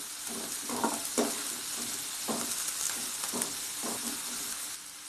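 Onions and finely chopped curry leaves sizzle steadily in a pan for an eggless vegetarian omelette, with a bright frying hiss and several soft stirring scrapes at irregular intervals, close and fairly quiet.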